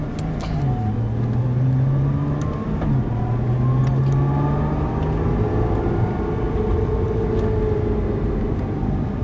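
Nissan GT-R twin-turbo sports car accelerating hard on a circuit, a loud steady engine roar rising in pitch through the gears, with a brief drop at a gear change, heard from inside the cabin.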